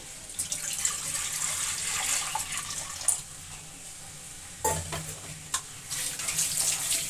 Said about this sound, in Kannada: 1 ಲೀಟ್ರಷ್ಟು ನೀರು ಹಾಕ್ಕೊತಾ ಇದ್ದೀನಿ